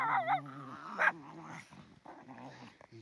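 Old dogs at a creekside camp make close growls, whimpers and short yips, a mix of low rumbling and whiny vocal sounds in quick bursts, with no speech.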